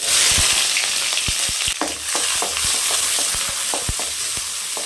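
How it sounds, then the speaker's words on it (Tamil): Shallots and fennel seeds fry in oil in a kadai, a loud steady sizzle broken by frequent sharp crackles and pops and the scrape of stirring, with no voices. "எண்ணெய் சேர்த்துக்கலாம். கொஞ்சமாக சோம்பு சேர்த்துக்கலாம். சின்ன வெங்காயம் சேர்த்துக்கலாம்."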